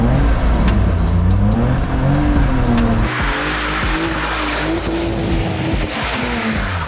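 A Mazda RX-8 engine revs hard with tires squealing as it spins a tight donut around a cone on a track, loud and close, with a rough rumble throughout.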